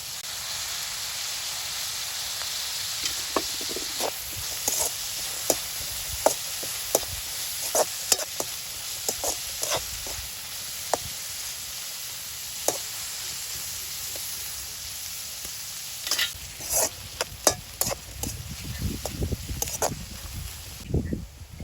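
Shallots, garlic and green chili frying in a pan for a Jaffna village-style stingray curry, giving a steady soft hiss with scattered sharper crackles and pops throughout, close and moderately quiet.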